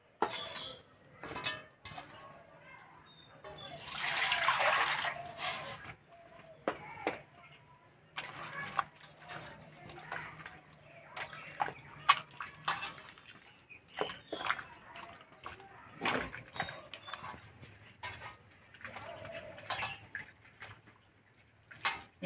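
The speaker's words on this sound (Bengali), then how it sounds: "এবারে আটিগুলো জলে গুলে নেব।" Ripe palm fruit kernels mashed and squeezed by hand in water in a bowl: wet squelching and scattered clinks and knocks, one louder splashy burst early on, irregular and close, with no talk.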